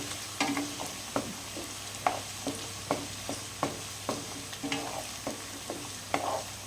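Ingredients for mango pickle frying in a pan, a soft sizzle under repeated sharp scrapes and taps of a spoon stirring at a steady rhythm, close and fairly quiet.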